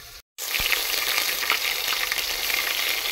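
Onions sautéing in a pan for chicken biryani, a dense continuous sizzle up close after a brief gap of silence at the start, with faint crackles and stirring, no voices.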